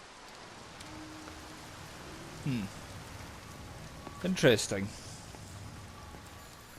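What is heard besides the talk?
rain pouring in the video game Everybody's Gone To The Rapture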